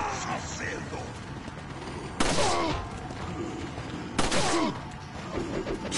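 Gunfire in the video game Resident Evil 4 cracks out in two sharp, loud shots a couple of seconds apart over a dense, noisy game background.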